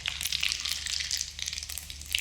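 Fenugreek, mustard and cumin seeds sizzling and crackling in hot oil in a pan, a steady close frying hiss with small pops throughout and no talking.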